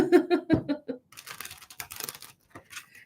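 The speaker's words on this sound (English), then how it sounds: "one more shuffle because it feels right" A deck of tarot cards shuffled by hand, a quick riffling, papery patter of cards close by, following a brief bit of speech at the start.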